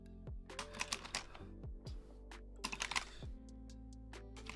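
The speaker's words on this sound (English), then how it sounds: "Here's the keycap puller. Let's remove these guys real quick." A keycap puller pries keycaps off a mechanical keyboard, giving sharp plastic clicks and rattles in irregular clusters, close and fairly quiet.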